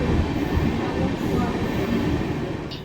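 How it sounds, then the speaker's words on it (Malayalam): A train at a railway station gives off a steady, heavy rumble of wheels and engine for a few seconds, close by and fairly loud, with no clear pauses. "ഇത് നമ്മുടെ ട്രെയിനാണോ എന്ന് ഞാൻ ചോദിച്ചാൽ ഒരു കാര്യമുണ്ട്."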